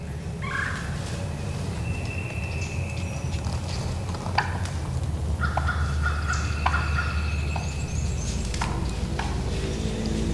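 Wild turkeys gobble outdoors, several sharp rattling gobbles from mature toms at moderate distance, with soft hoof-like clip-clop sounds and constant background noise.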